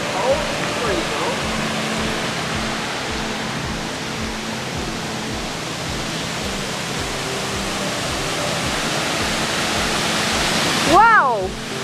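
Steady rushing roar of a waterfall, constant and full throughout, with a brief higher-pitched sound near the end.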